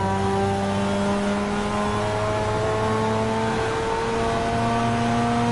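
Car engine in Assetto Corsa driven with an H-pattern shifter, steady loud engine drone with shifting harmonic tones as revs change, continuous throughout with no talk.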